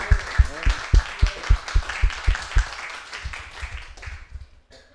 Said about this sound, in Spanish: démosles un aplauso a los señores y señoras candidatas por el nivel de síntesis